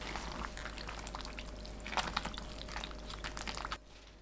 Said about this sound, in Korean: 뜨거운 상태로 봄동 위에 부어줍니다